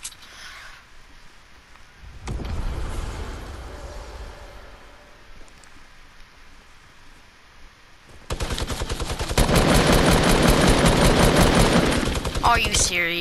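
Minigun fire in a Fortnite-style shooter game, starting with a burst around the two-second mark and then erupting into a loud, sustained rapid-fire roar that dominates the final seconds.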